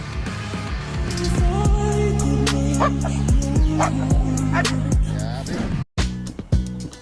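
A Doberman barks in repeated loud, sharp woofs close by, mixed with yips and a whimpering whine, with a voice talking at times over the barking.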